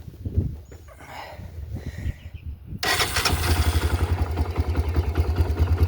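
A Honda 300ex ATV engine cranks with scattered clatter for a couple of seconds, then fires up and settles into a loud, steady, pulsing idle close by.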